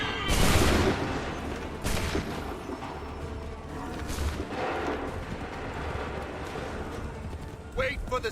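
Musket volleys fired on command in Assassin's Creed 3, with several heavy booming bursts spaced a few seconds apart and rolling echoes, among battlefield noise and shouted voices.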